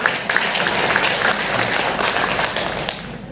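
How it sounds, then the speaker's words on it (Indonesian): An audience applauds at a technical training event, a loud, dense patter of many hands that fades slightly toward the end. "Mohon tepuk tangannya."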